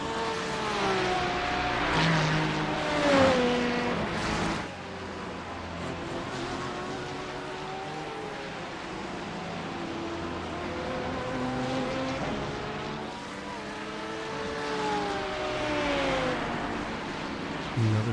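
Race car engines drone steadily through an iRacing IMSA LMP2 race as a Ferrari passes, with rising and falling engine pitch sweeping past over a continuous mid-level roar, no talk.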